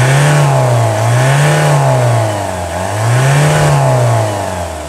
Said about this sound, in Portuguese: Esse urro de motor a diesel é top, né, moçada?